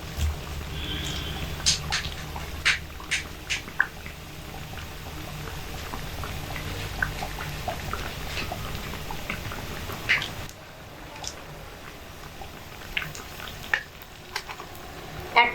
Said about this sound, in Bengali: একসঙ্গে ভাজতে হবে। নিচের পিঠটা ভালো করে লাল হওয়ার জন্য একটু অপেক্ষা করব।